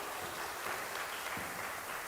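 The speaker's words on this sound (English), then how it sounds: "Yes, let's clap for her" A hall audience at a University of Nairobi public lecture on generative AI applauds the acting Vice Chancellor: a steady, diffuse wash of many hands clapping at a moderate distance, with no voices on top.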